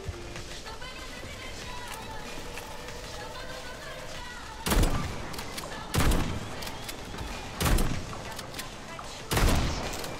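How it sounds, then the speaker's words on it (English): Shotgun firing in Atomic Heart, four loud, widely spaced blasts about one and a half seconds apart, each with a short tail, over game ambience and someone talking. "Shotgun doesn't really work good for that."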